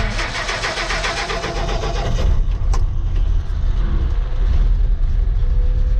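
A 1958 Ford engine cranks cold after sitting for a week, a loud, close, rhythmic chugging of the starter that stops after about two seconds, leaving a steady low rumble and hiss.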